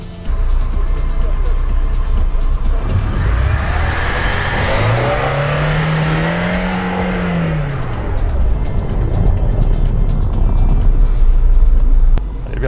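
A Lada Niva Urban fitted with a front lip drives across snow-dusted terrain, its engine loud and close with a steady drone that climbs and falls in pitch mid-run, under constant rumble from the tyres.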